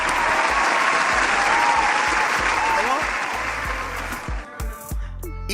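Loud, dense audience applause at a live show, sustained for several seconds before thinning out as a voice begins speaking.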